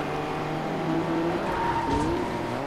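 A car drifting and skidding in Fortnite, with engine drone and rising tire squeal through a sustained slide, loud and close with no talk over it.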